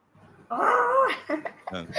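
A voice imitates a dog's growl with one sustained, rough, throaty growl lasting under a second, followed by a few short voiced sounds and bits of talk up close.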